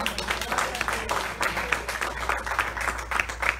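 A congregation at a church service applauds, a moderate, fairly even spell of clapping with scattered sharper claps, heard at some distance in a reverberant hall.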